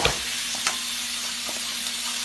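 Plain flour being stirred into melted butter in a pan gives a steady soft sizzle with faint scraping and light taps from the spoon, close and alone.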